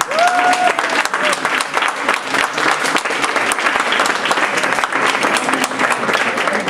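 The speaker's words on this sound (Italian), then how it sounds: "fare un applauso a Loredana." A crowd at an anniversary celebration for a magazine breaks into sustained applause, dense and lively clapping from start to finish, with a brief tonal voice or whistle near the beginning.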